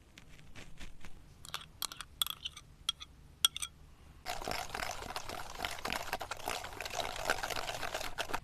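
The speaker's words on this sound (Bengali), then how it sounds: "1 বাটির একটু কম তালের পাল্প দেব।" Ripe palm fruit pulp is scooped and poured into a bowl for cake batter, with soft wet clicks and splats at first, then a continuous thick, sloppy pouring sound.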